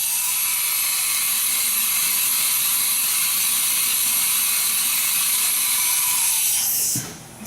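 A Haas VF-0 CNC mill's automatic tool changer indexes forward with a steady, loud mechanical whir and hiss that runs nearly unbroken, then cuts off abruptly with a soft clunk near the end.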